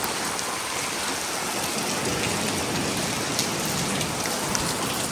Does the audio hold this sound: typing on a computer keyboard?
no